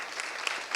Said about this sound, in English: you can clap for that, it's okay